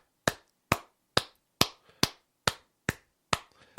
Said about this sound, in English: Let's give a round of applause for Corns the booking guy here.